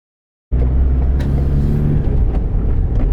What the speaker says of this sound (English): We are driving out of the caravan park for the last time, and now we're on our way.